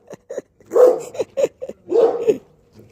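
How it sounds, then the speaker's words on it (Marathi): A dog barks from inside a neighbouring bungalow, giving a run of sharp, irregular barks and yelps at moderate distance with short pauses between them and no talking over them. "बाजूच्या बंगलोमध्ये कुत्रा."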